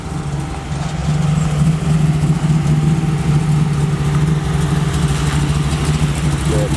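A Buick Regal with a small block V8 idles close by, a loud, steady, deep rumble with a slightly lumpy pulse that holds throughout and has no talk over it.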